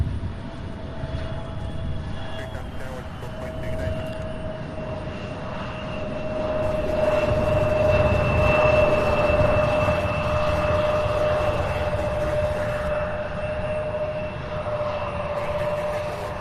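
Airliner arriving at Louisville International Airport from Newark, a broad steady jet engine roar with a sustained whine, swelling louder midway as it passes fairly close, then easing slightly.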